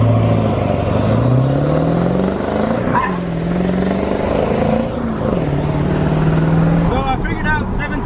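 A 7.3 diesel truck accelerating hard, its loud engine note climbing steadily in pitch, dropping back at each shift and climbing again across several gears.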